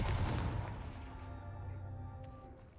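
The Confringo blasting spell in Hogwarts Legacy bursts with a loud explosive boom at the start, then a long rumbling decay fading away, with no talking.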